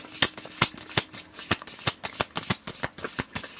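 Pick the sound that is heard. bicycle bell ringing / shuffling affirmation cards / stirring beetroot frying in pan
shuffling affirmation cards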